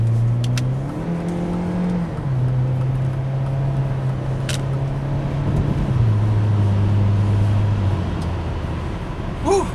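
A Saab car accelerates up to 70 mph on an interstate, the engine note rising steadily through the gears from inside the cabin, with a droning tone and road rumble beneath.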